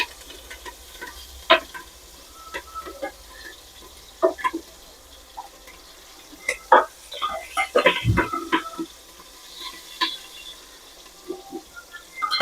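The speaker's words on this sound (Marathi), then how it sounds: "थोड्या मिरच्या अंगावर उडतात म्हणून जरा थोडंसं झाकून घ्यायचं" Green chillies hit hot oil already seasoned with asafoetida and cumin, giving scattered sharp pops and crackles over a quiet sizzle in a close kitchen, growing busier in the middle.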